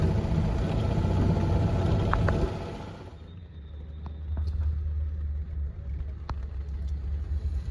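Team cars and motorbikes following a Vuelta cycling race rumble past close by, loud at first, then fading to a lower engine drone with idling vehicles and a few faint clicks.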